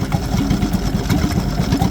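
A walking tractor's engine runs close by at a steady fast clip, its dense, rhythmic chugging continuous and unbroken with no voices over it.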